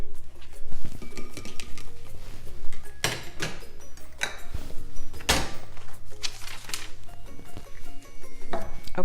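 A can of organic strained corn is emptied into a mixing bowl of black beans, with several dull thunks and knocks of metal against the bowl over a low background hum.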